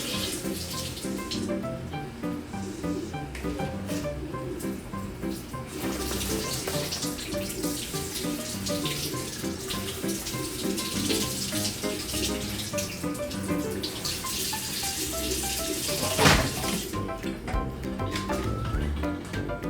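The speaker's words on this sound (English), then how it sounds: "normally let me put some water in here" Water runs and splashes continuously into a small portable air conditioner's tank, with faint clinks and a louder knock near the end.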